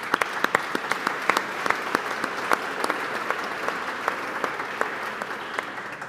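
An audience at an innovation conference breaks into applause. The clapping is moderate and steady over several seconds, with distinct individual claps standing out from the crowd.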